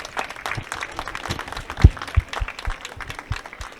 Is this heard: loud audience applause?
yes